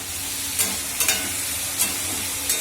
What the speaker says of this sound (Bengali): এই যে আলু ভাজাটা হয়ে যাচ্ছে, একটু আর হলে হয়ে যাবে।